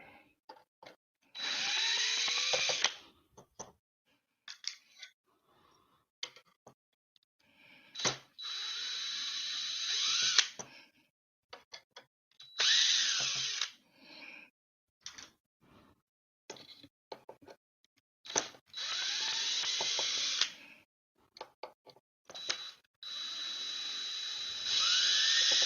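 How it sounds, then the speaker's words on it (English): A power drill runs in repeated bursts while backing screws out of scrap being torn down, whining loudly for a second or two at a time and separated by short pauses and clicks. "I did bring the drill, so that's what it's going to take."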